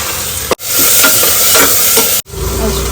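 Onion and raw garlic paste fry loudly in a pan for chicken gravy, a dense close sizzle broken by two brief pauses, with faint stirring and no voices.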